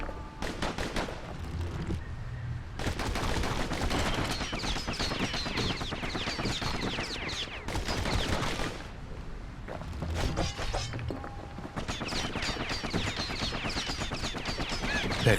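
Dense, continuous gunfire and weapon clatter from the action game Bastion, rapid shots piling up over a busy, loud mix with hardly a pause.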